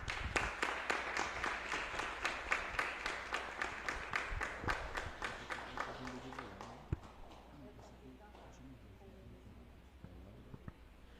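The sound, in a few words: round of applause in church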